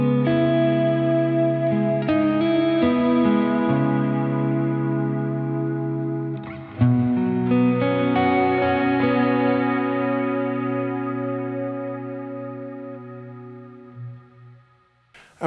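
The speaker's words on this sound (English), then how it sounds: "in the Golden I've got a really big washy kind of reverb for really atmospheric kind of stuff" Sustained guitar chords ring out through a reverb pedal with a big, washy tail, notes swelling and blurring together in an atmospheric wash that slowly fades at the end.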